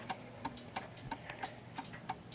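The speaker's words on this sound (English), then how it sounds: "you can hear that is ticking away quite nicely" A 1930s oak-cased eight-day striking mantel clock ticks steadily at an even rhythm, crisp, close and fairly quiet over faint room noise, with no talk.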